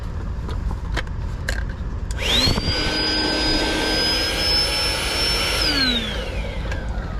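An electric air pump switches on and runs steadily with a loud whine, inflating a rear-seat air mattress in a 2017 truck cab, then winds down near the end.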